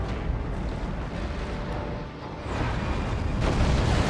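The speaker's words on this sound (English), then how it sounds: "Herald just used Hell Fury Strike on their own stuff, I think." A Hell Fury Strike ability erupts in a Dawn of War 2 multiplayer battle: a dense, rumbling blast of explosive noise that swells again near the end, heavy and sustained with no voices.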